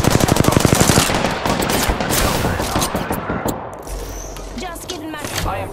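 Rapid automatic gunfire in Apex Legends on PC, a dense, loud stream of shots that breaks into scattered bursts and ricochets, with game sounds around it.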